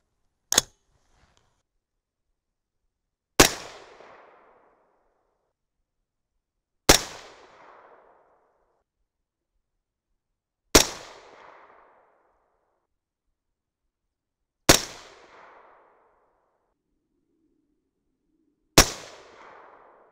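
Six sharp .223 Rem rifle shots firing 70gr Nosler RDF loads from a warm barrel, each a loud crack with a short decaying echo, spaced roughly three to four seconds apart with silence between and no talking.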